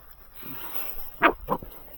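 A puppy gives two short, high yips in quick succession, close by, after a faint whimpering start.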